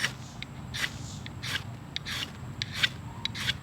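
A cheap Harbor Freight ferro rod having its coating scraped off, heard as a series of quick, bright rasping strokes in an even rhythm, close and clear with no talking.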